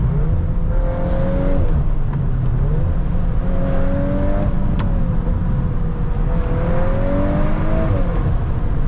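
An Audi RS3 or VW Golf R engine revs hard toward redline, rising in pitch through repeated pulls with brief drops between, loud and close inside the cabin, no voices.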